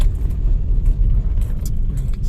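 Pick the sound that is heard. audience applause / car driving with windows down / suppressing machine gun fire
car driving with windows down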